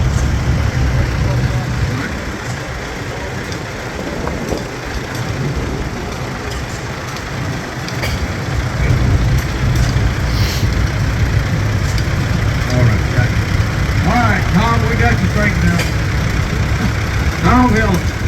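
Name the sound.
antique Ford tractor engine running at tractor show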